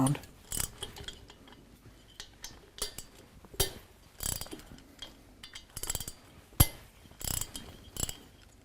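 A wrench cracks loose the cylinder head bolts on an S&S Cycle motorcycle engine, making sharp, irregular metallic clicks and snaps one after another at close range, with quiet pauses between them.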